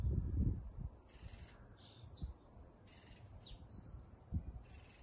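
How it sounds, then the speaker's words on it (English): Several birds chirp and whistle in short high calls in a garden in the evening, fairly faint against a quiet background with occasional low thumps. "Love the sound of the birds."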